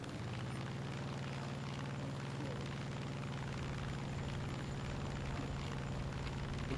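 Propeller engine of an F8F-1B Bearcat fighter in the War Thunder flight game drones steadily with a dense, constant roar, faint overall and unbroken throughout the clip.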